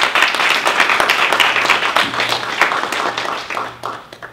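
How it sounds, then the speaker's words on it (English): An audience at an associate professor orientation gives a faculty group a round of applause, with steady, close, full clapping throughout that tapers slightly at the end. "I'd like to give them a round of"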